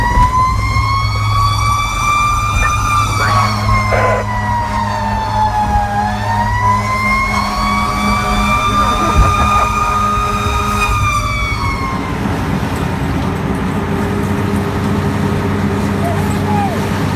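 A county fire engine from a volunteer fire company arrives with its siren wailing loudly in rising and falling sweeps over a steady engine rumble. The siren cuts off toward the end, leaving the engine running.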